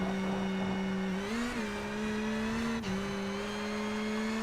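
A WRC rally car at the finish of a stage at the Safari Rally Kenya, its engine a loud, steady high-revving drone with brief pitch dips as it shifts, heard close and alone.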